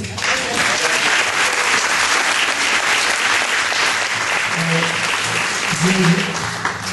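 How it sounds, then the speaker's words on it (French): Sustained applause from an audience for Roselyne at a town twinning ceremony, dense and even, with a few faint murmurs of voices beneath the clapping toward the end. "vous pouvez l'applaudir"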